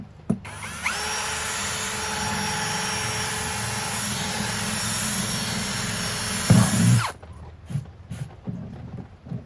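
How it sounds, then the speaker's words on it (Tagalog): A power drill bores a hole with a loud, close, steady high whine lasting about six seconds, ending in a brief heavier grind, then scattered knocks and handling clatter, no speech. "Gagamit po tayo ng drill."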